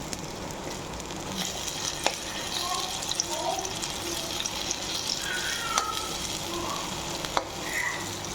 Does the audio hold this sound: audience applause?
no